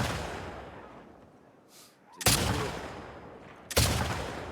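Two sharp gunshots crack in The Last of Us Part II, each a loud, sudden burst followed by a fading tail, spaced about a second and a half apart.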